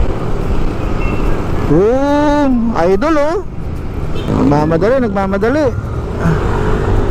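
Road traffic passes close by, with a steady rumble of car engines, a voice calling out and a couple of rising, wavering tones, and talk throughout.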